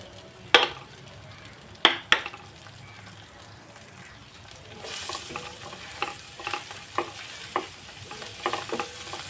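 Finely chopped garlic frying gently in butter, a soft steady sizzle with a few sharp clicks of a spoon or spatula against the pan early on, then a brighter, busier hiss with light stirring knocks later.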